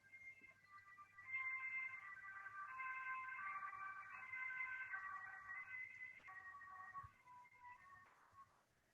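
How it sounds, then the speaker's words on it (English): Faint sirens wail in the distance, rising and falling tones lingering in the background for several seconds before fading. "And as the sirens are roaring in the back,"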